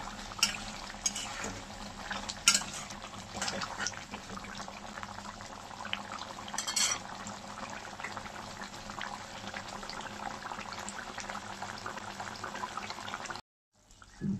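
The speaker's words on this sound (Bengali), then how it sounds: "এখন একটু নাড়িয়ে দিচ্ছি।" Tangra fish simmering in a bubbling mustard-poppy seed curry, a steady close boil with faint scraping as it is stirred, running evenly before a brief drop to silence near the end.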